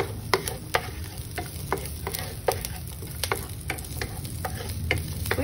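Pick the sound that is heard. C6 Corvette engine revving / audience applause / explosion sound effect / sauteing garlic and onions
sauteing garlic and onions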